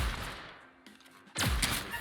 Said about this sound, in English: we made a lot of gunfire